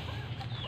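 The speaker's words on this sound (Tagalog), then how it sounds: "mayroon din ako ditong ibang manok sa kabila" A chicken clucks briefly and softly over a low, steady hum of background noise.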